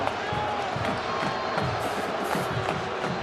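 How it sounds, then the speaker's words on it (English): Stadium crowd at a 2009 Oklahoma versus Kansas college football game, a dense roar of voices with rising cheers and shouts, heard under a play-by-play commentator talking over it. "this crowd letting Mark Mangino hear what they feel about that change"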